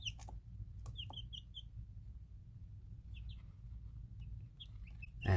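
Young chicks give a few soft, high chirps and cheeps over a steady low hum, scattered in short bursts and fairly close.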